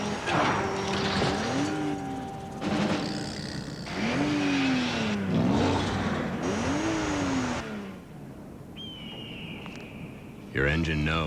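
A race car engine revs hard in repeated rising and falling surges, loud and close, with a brief tire squeal and a sharp burst of mechanical noise near the end.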